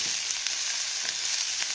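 Onion pieces frying in oil in a pan, a steady, loud hiss of sizzling with faint stirring scrapes coming through at intervals.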